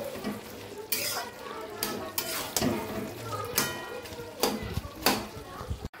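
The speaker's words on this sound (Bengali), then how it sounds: "মাথাগুলোকে এবার আস্তে আস্তে ভেঙে দিতে হবে।" Fried hilsa fish heads being broken up with a utensil while curry is stirred in a pan, irregular scraping and clattering strokes close up over a soft sizzle.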